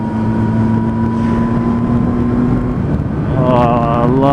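Honda VFR800X Crossrunner motorcycle ridden through corners, a steady engine hum that rises in pitch near the end, under heavy wind buffeting on the microphone.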